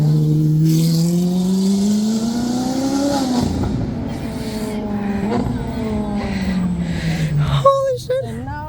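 A Lamborghini Aventador and a Ferrari 458 roar past along a city street near a mall, their engines loud and close, the pitch climbing and then sliding down as the exotic cars speed away.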